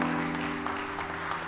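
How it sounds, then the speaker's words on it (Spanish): A church congregation applauding during a service, a brief stretch of steady clapping over a sustained low organ-like hum. "Les daré un fuerte aplauso al Señor."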